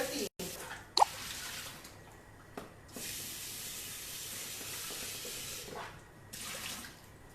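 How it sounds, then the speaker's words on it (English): Water runs from a tap in steady bursts as a Thermomix bowl is rinsed, with brief clunks and gaps between the flows, fairly close and moderately loud. "I'm just going to give it a quick rinse"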